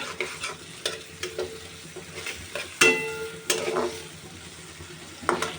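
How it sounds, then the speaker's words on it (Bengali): Spice masala for chicken rezala being fried in a pan and stirred, with repeated spatula scrapes and knocks against the metal over a soft sizzle, close and uneven in rhythm. "এখন আমি মশলাটা কষিয়ে নেব"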